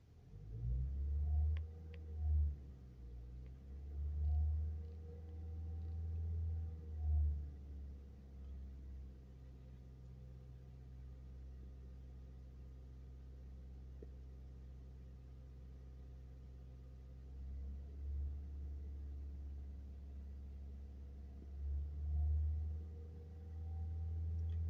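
A Mazda 3 engine idles with a low rumble, and its revs rise and settle in gentle swells, held steady for a while and then lifting again near the end.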